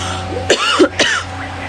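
Two short coughs close together, one throaty burst followed by another, over steady background hum with no talking.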